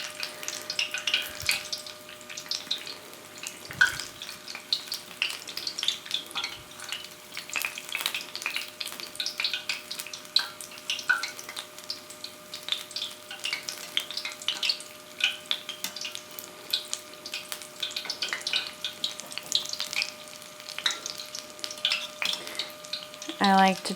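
Apple fritter batter frying in a pot of hot oil, a steady crackling sizzle with dense bursts of bubbling and a few soft scraping stirs, close and continuous throughout.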